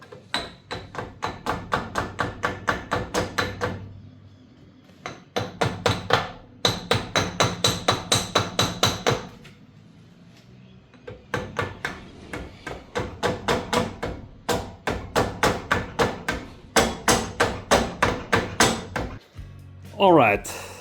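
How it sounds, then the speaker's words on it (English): Rapid bursts of close hammer blows on metal drive a rear axle bushing into a Volvo S70 or V70, coming in long runs of quick, even strikes separated by brief pauses. "it's very difficult to hammer this thing in"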